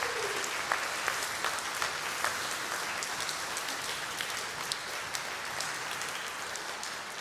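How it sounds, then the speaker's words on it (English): An audience claps for itself in sustained, even applause lasting several seconds, a dense patter of many hands with occasional sharper claps near the front. "Give yourself a round of applause"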